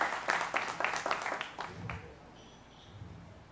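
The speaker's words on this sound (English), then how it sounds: "let's give him a rookie applause for Corey Raymond on drums." A jazz club crowd claps for the drummer, a burst of applause that fades out after about two seconds, leaving quiet room tone with faint murmurs.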